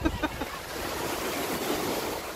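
Ocean surf at Pensacola Beach, Florida washes in as a soft, continuous hiss and rumble, with a few faint knocks at the start and no voices.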